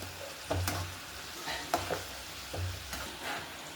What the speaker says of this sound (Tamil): இப்போ நம்ம புளியை அதோடையே போட்டு நல்லா அதையும் நல்லா ஃப்ரை பண்ணி